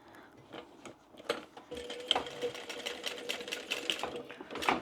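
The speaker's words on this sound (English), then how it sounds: "I'm going to top stitch on the base" A sewing machine top stitches the base of a bag, running in rapid mechanical bursts with short pauses, close and clear, with light handling noises between the stitching runs.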